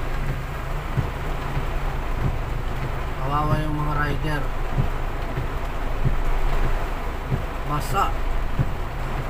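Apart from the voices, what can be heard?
heavy rain during typhoon Enteng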